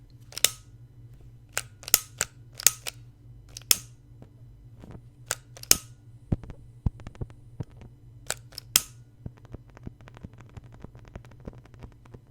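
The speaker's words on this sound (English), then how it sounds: "So the first thing I'm going to do is light my candle." Lighting an apple fritter scented candle, crisp clicks and a few sharp scratchy strikes, close and quiet, scattered over a low steady hum with no talking.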